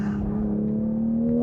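A Toyota Supra's inline-six, floored in sport mode, pulls with a steady droning engine note that climbs slightly in pitch toward the end, loud and close throughout.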